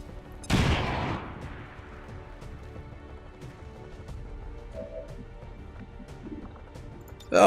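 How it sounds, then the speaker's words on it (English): A grenade goes off in XCOM 2: one sudden loud explosive burst with a decaying rumble tail, followed by quieter game ambience and a short sharp noise at the end. "Let's grenade him anyway."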